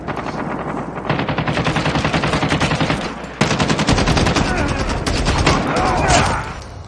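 Sustained machine gun fire in Call of Duty Mobile, a fast, loud, close rattle of rapid shots in long bursts with a brief pause midway.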